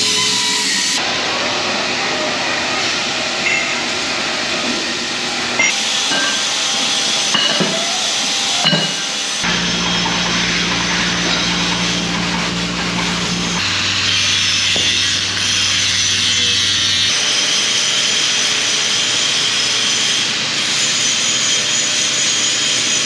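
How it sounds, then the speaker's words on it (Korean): A pipe being cut in a workshop, with welding nearby, gives a loud, continuous mechanical hiss and grinding drone that shifts in pitch between stretches, broken by a few clanks and ratchet-like clicks. "이거는 파이프 자르는 거예요?"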